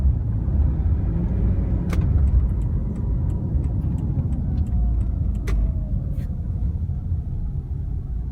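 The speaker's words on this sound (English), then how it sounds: "We got a lot of traffic going on here" Heavy road traffic on a Los Angeles freeway near LAX airport, with lanes narrowed by construction: a steady, close low rumble of passing cars, broken by a few faint, sharp ticks.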